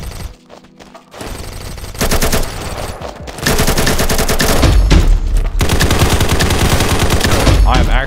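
Rapid automatic fire from an AR-style rifle fitted with a large drum magazine in the shooter game Combat Master, loud and sustained bursts dominating after a brief quieter opening, with dense overlapping game sound effects.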